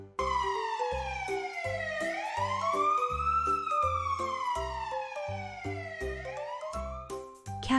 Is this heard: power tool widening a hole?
no